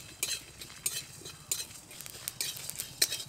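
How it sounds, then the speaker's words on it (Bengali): Whole spices (cumin, coriander seeds and panch phoron) dry-roasting in a dry wok, heard as brisk scraping and clinking stir strokes in irregular bursts, fairly close, with a faint rustle between strokes. "সব মশলাগুলোকে এবার শুকনো কড়াইতে ভালো করে ভেজে নেব"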